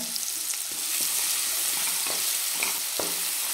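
Green masala paste with asafoetida sautéing in hot oil for a brinjal-potato sabzi, an even dense sizzle close up with soft periodic scrapes from stirring, no talking.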